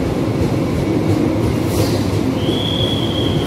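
The new Argo Pangandaran panoramic train, running Gambir to Garut, rolls loudly through Gondangdia station in Jakarta with a steady rumble of wheels on rail and a thin high squeal rising near the end.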